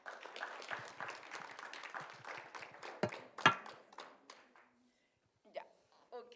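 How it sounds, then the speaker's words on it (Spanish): A small audience claps for an interviewee at a book talk. The applause is moderate and uneven, with a couple of sharp claps, and it dies out into a few stray taps. "le damos un aplauso al entrevistado"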